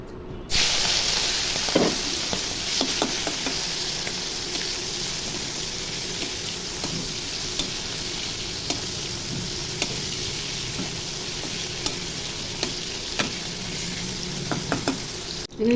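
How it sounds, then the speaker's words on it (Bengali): Turmeric-coated shrimp frying in hot oil make a steady, close sizzle with scattered sharp pops and utensil clicks over about fifteen seconds. "তেল গরম হয়ে গেছে, এখন চিংড়ি মাছগুলো ভেজে নিব।"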